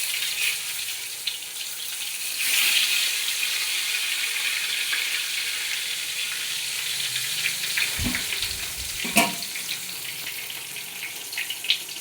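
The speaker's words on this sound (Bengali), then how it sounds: "এবার এখানে হচ্ছে আলু ভাজা আর খেঁকসা ভাজা হচ্ছে।" Potato and teasel gourd pieces fry in a pan in a home kitchen, giving a continuous loud hiss and sizzle with a couple of brief clatters from stirring.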